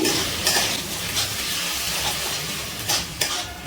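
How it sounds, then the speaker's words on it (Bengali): Ground spice paste with poppy seed and melon seed paste, thinned with a splash of water, sizzles in a pan over a medium flame for mixed vegetable curry, with steady hiss and occasional scrapes of a stirring spoon. "এবার সব মশলা একসাথে মিশিয়ে ভালো করে একটু কষিয়ে নিচ্ছি।"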